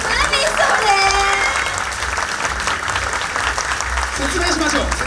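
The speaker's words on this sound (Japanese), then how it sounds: "はい、拍手。" Applause from an audience at a Japanese idol group's live event announcement, loud sustained clapping filling the room with some voices and cheers mixed in.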